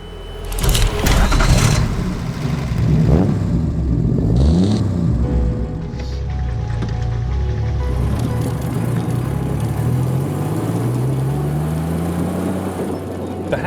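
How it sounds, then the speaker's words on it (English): A vintage Delahaye 135 CS with a racing 4-speed gearbox drives on the road, its engine droning steadily and loud up close, rising and falling through revs with a pitch sweep near the end. "You feel really confident driving it on the road."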